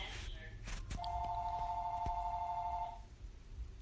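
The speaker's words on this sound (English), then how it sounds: "I'm sorry if you hear that ring. That's because that's my house phone." A house phone rings with a steady electronic tone lasting about two seconds, heard at moderate distance over a low indoor room background.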